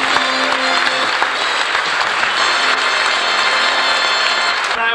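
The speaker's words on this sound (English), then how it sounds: "How about a round of applause for our two co-stars?" An audience applauds steadily at an animal show for two performing co-stars, with dense, sustained clapping at full loudness across the whole stretch and some faint tonal sounds underneath.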